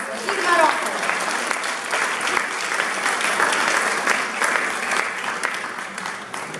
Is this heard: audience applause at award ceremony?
yes